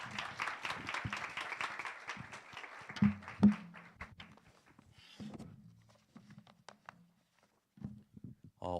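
Young adults' church congregation clapping to welcome an elder at an early-morning special prayer service, a lively burst of claps that quickly thins to a few scattered hands, with footsteps and voices talking afterward.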